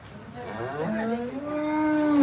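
A Punjab-line HF dairy cow moos on a farm, one long drawn-out low call that rises and swells louder toward the end, close by and clear.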